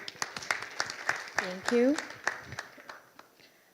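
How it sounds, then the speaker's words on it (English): Scattered audience clapping for a speaker at an IVF medical conference in Indonesia, sparse individual claps in an irregular patter that tapers off, while someone briefly speaks over it. "Give a round of applause for him."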